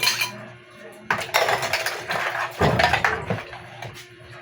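Washing leftover dishes at home: plates and cutlery clink and clatter close by in a few bursts, with quieter rinsing and handling in between.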